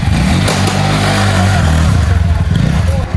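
A motorcycle with a chain problem revs hard while drifting. The engine is close and loud, its note rising and holding with a rough, pulsing throb before easing off near the end.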